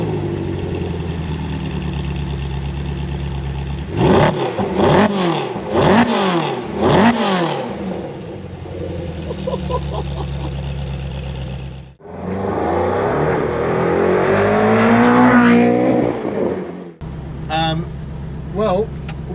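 Ferrari F430 Challenge track car engine revving hard in several sharp bursts, then a long sustained high rev and a final short blip, loud and close, with people talking around it.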